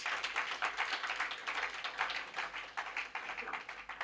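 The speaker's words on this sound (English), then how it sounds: "A round of applause, please." An audience applauds the second-place team at a national insurance debate final in Ghana, a steady wash of clapping at moderate level that carries on throughout without talk.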